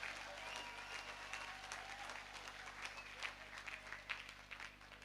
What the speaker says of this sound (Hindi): एक बार संजीव जी के लिए दोनों हाथ ऊपर उठा के जोरदार ताली।